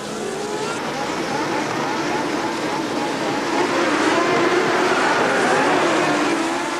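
Grand Prix racing cars at the 1982 United States race, their engines blending into a loud, continuous, distant roar that builds slightly as the field gets underway.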